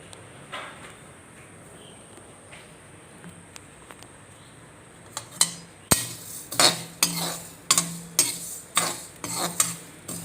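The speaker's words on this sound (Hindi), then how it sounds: "तो इसको हम भून लेते हैं सबसे पहले।" Ground spice masala, about 100 grams, being stirred and roasted in a pan for karonda pickle; quiet scraping at first, then a steady run of sharp utensil scrapes and clinks against the pan, close by.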